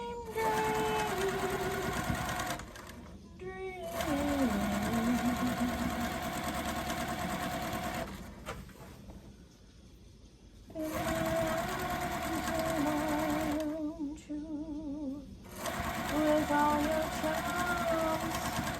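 A sewing machine stitching quilt seams runs in long steady whirring stretches, stopping briefly between runs, close and fairly loud, with a person talking over it.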